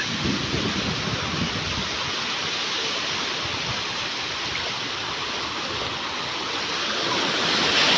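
Strong wind blowing over the sea with small waves, a loud continuous roaring rush of wind and water without pause or speech, swelling slightly toward the end.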